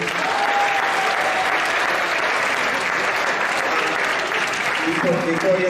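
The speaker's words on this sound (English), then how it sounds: "let's give one giant round of applause again for Brandon" A large audience at a school talk gives a big round of applause for Brandon, steady, dense clapping lasting throughout with a faint voice emerging near the end.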